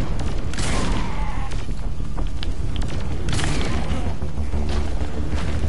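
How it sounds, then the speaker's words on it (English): Saints Row shotgun blasts fired from the hip sound as several loud, booming shots spread across a few seconds over constant game noise, with no voices. "Shotgun hip fire."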